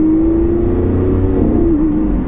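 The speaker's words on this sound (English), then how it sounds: "there is no sound like a Lamborghini V12" A modified Lamborghini Aventador V12 engine revs loudly with a deep, steady exhaust note, pitch rising and dipping slightly as it pulls, no talking.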